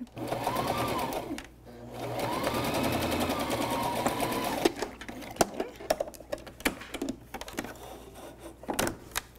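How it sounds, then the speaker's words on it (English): A sewing machine stitches the bottom seam of a fabric wine bottle gift bag, whirring in two close, continuous runs before giving way to sharp clicks and handling knocks. "you can just sew the bottom seam"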